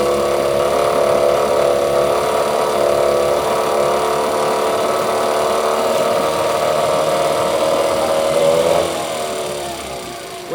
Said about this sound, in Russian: Вот это Yamaha, настоящий японский мотор